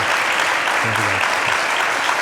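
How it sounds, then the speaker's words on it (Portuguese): Brief burst of audience applause for two panel speakers at a talk event, dense continuous clapping with a faint voice briefly audible beneath it. "eu peço uma salva de palmas para estes dois intervenientes"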